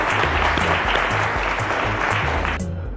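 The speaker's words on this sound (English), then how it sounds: "A round of applause for Mom" A studio audience at a televised maths quiz show applauds a contestant's mother, brisk full clapping over a low rhythmic music bed, cutting off abruptly near the end.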